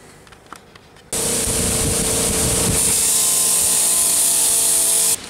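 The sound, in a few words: abrasive sanding wheel polishing metal pliers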